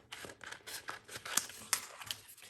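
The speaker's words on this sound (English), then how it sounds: "So I'm just going to go ahead and cut this." Scissors snip through a sheet of decal word phrases in a quick series of close, crisp cuts, with a few sharper clicks of the blades closing, and no talking.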